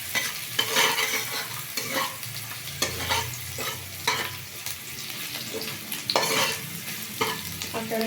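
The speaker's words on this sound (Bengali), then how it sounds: "পেঁয়াজটাকে আমি একটু লাল করে ভেজে নেব।" Onion being fried until browned in a pan, giving a steady close sizzle and crackle throughout with occasional stirring scrapes and no talk.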